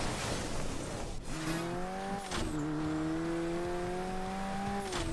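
Race car engine drone in Burnout 3: Takedown, its pitch climbing and shifting through gears under a wash of game noise, with a couple of sharp bursts that could be tire squeal or impacts.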